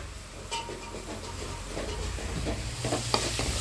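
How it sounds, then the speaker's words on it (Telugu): Masala frying until brown in a pot for mutton pulao, a steady close sizzle with scraping stirs and the clink of a spoon, with no talking. "ఇది బాగా బ్రౌన్ కలర్ వచ్చేదాకా ఫ్రై అయిపోవాలండి మసాలా"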